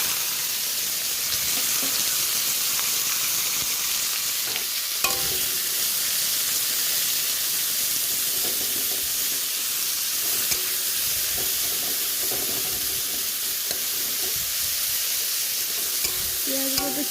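Potatoes and onions sizzle in hot oil in a pan, with home-made French fries frying alongside; a steady, close hiss runs throughout with occasional stirring clinks and soft knocks.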